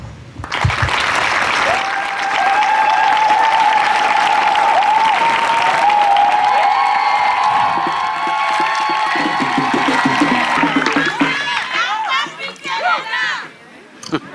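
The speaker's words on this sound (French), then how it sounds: "le Père Romaric, qu'on applaudit" An audience at a thanksgiving church celebration applauds Father Romaric, a dense, steady clapping that fills the space for most of the stretch, with voices and cheers mixed in before it thins toward the end.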